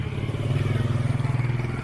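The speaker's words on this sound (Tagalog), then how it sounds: "There's a motor." A motorcycle passing nearby in Taytay, Palawan, its engine a steady pulsing putter that grows louder and holds close for a couple of seconds.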